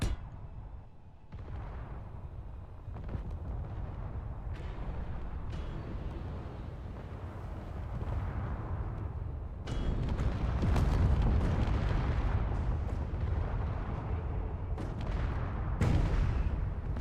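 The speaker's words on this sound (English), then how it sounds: "All right, we love missiles." Missiles blowing up in the space game Space Engineers, a dense run of heavy booming detonations with rumbling low end that grows louder and thicker after the midpoint, with no talking.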